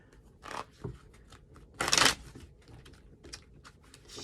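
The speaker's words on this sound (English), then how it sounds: "shuffle the deck" Deck of tarot cards shuffled by hand, with soft riffling and papery flicks in short bursts and one louder rustle near the middle, quiet and close.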